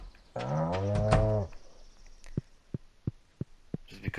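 A cow in the Stardew Valley video game lets out one long, loud, drawn-out moo, followed by a series of soft, evenly spaced clicks.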